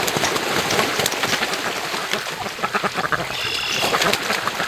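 Ducks quacking at a lake on an early morning, a busy chorus of calls over a constant hissing wash like rain or splashing water, with a few sharper calls standing out.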